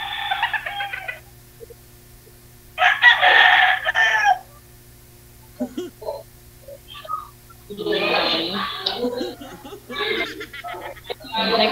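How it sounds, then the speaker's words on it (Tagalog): Chickens on a farm crow and cluck in several separate bursts, loud and close, with quiet gaps between the calls. "Dami kong manok kasi dito eh."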